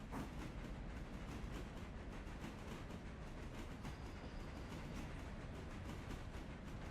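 A small train rolls along the tracks in the Railroader video game, a steady, quiet rumble with faint rhythmic clatter from the wheels, continuous and unbroken with no voices.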